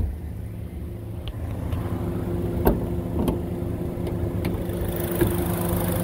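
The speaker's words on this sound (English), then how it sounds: "Engine sounds great, nice and quiet, no funky noises." A 2010 Honda CR-V 4WD's 2.4-liter engine idles steadily at close range, a low smooth hum with a few faint clicks and no talking.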